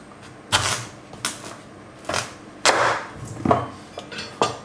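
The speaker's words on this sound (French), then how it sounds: "On va couper le potimarron. Voilà. On va le couper en deux." A knife cuts through a red kuri squash to halve it in a home kitchen. The cutting gives a series of about eight sharp, close cracks and knocks at uneven intervals, with no voices.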